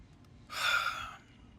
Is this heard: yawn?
yes